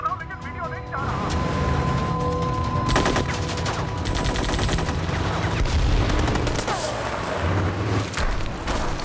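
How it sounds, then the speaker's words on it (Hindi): Sustained gunfire with rapid bursts, loud and dense, in a film scene set during the Mumbai attack, with voices talking amid the shooting. "हम तो फायरिंग कर रहे हैं सर।"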